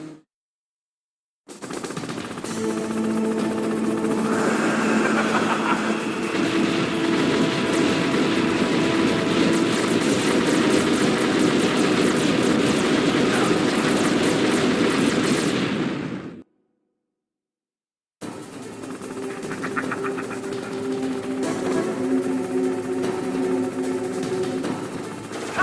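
Hind attack helicopter in Metal Gear Solid on PC, a dense, continuous roar of rotor noise and rapid machine-gun fire that runs loudly for about fifteen seconds, cuts out, then resumes.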